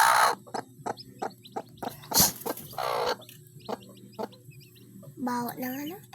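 Roosters cluck and crow in a rural yard, with short repeated clucks and a crowing call near the end, mixed with clatter and bits of people talking nearby.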